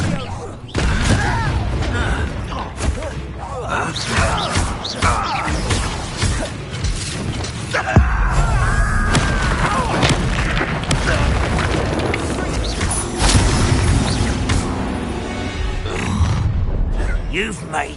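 Spell blasts and explosions in Hogwarts Legacy crash and boom repeatedly through a dense magical battle, with sharp impacts, shattering and rumbling, all under spoken combat lines.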